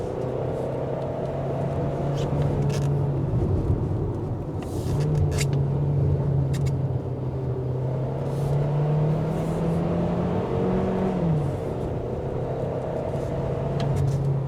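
A Kia Sportage SUV drives on wet mountain roads at Genting, its engine humming steadily from inside the cabin and rising in pitch under acceleration, with tyre swish on the wet surface and occasional clicks.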